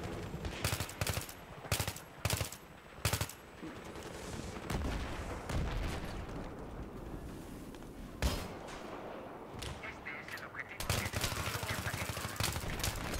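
Video game gunfire in Battlefield 3, rapid bursts of automatic shots in tight clusters, then a sustained rattling firefight with sharp cracks near and far, loud throughout, with a voice speaking briefly amid it.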